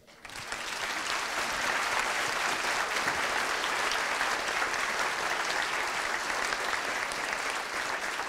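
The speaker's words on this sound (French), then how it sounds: "On va vous applaudir." Audience applauding a chef at a culinary event, a dense, steady burst of clapping that swells in quickly and holds at an even level without speech.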